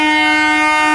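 A 12-coach Bandel car shed Katwa–Bardhaman local train pulls into platform 6 at Katwa Junction, sounding one loud, sustained, steady horn blast, close by and alone.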